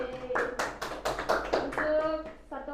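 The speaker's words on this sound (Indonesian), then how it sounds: "Tepuk tangan buat teman-temannya." Primary school pupils in a fifth-grade classroom clap for their classmates, a quick burst of hand claps close by, mixed with children's voices and chatter.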